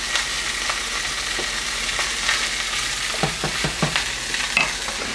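Sausages browning in a frying pan give a steady, close sizzle, with a few scraping and knocking sounds near the end as they are turned onto their sides. No one speaks.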